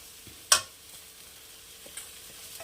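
Washed, drained lentils are tipped into a pan of hot oil, giving one sharp sizzling burst followed by a faint, low frying hiss with small clicks.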